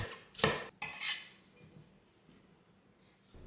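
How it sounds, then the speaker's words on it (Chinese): A knife slices a carrot into rather thick pieces on a cutting board for a stir-fried hairy melon and dried shrimp dish. Two sharp, close chops land within a second, then quiet follows. "切几片的红萝卜配色"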